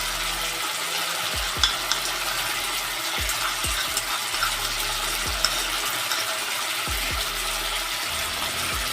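Spice paste stirred into tomatoes and oil frying in a pan for a pabda fish curry with eggplant, giving a steady soft sizzle with repeated scraping, stirring knocks spaced through the clip, no talking.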